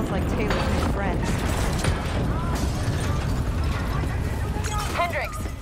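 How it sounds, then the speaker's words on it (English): Explosions across a facility in the Call of Duty Black Ops 3 campaign, a loud, dense stretch of blasts, crackling bursts and mechanical clatter with no pause, with voices calling out over the noise. "we have multiple explosions across the facility"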